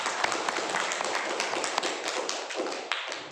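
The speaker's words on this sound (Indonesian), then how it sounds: "tepuk tangan" Classroom applause after a student group presentation, a brisk scatter of claps with sharp individual hits, fairly close and lasting a few seconds before thinning out.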